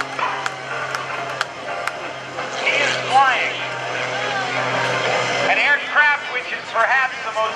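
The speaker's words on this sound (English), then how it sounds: "he flies the airplane almost sideways down the runway" The American-built MX-2 unlimited aerobatic plane flown by Gary Ward at the 2015 NAS Oceana airshow roars along the runway almost sideways, its propeller engine droning steadily under an announcer's voice.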